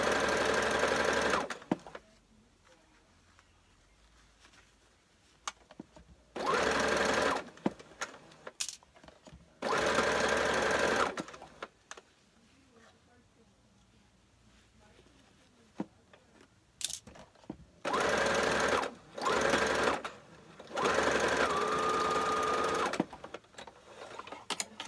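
A sewing machine sews a shirt in a series of short bursts, its close loud motor whirring and needle rattling in runs of a second or two, separated by quiet pauses.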